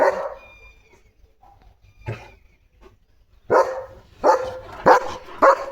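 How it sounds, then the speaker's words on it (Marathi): A German Shepherd barks loudly at other dogs playing nearby, a single bark early then a quick run of four sharp barks close by, with quiet gaps between. "समोर दुसरे डॉग खेळतेत लिओ त्यांना भुंकतोय किती जोरात भुंकतोस"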